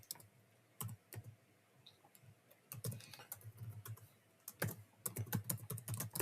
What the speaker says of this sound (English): You can create an account putting your name here, putting an email and the password.